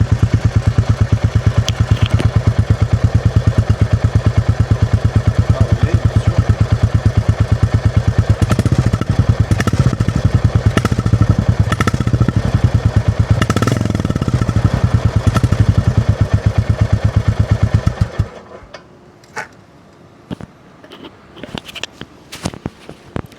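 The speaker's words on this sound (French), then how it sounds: "Je vais mettre le micro à proximité de l'échappement." A Royal Enfield Bullet 350 single-cylinder motorcycle exhaust idles loudly, recorded close to the exhaust, with a steady, thumping pulse, then cuts off, leaving faint clicks and ticking.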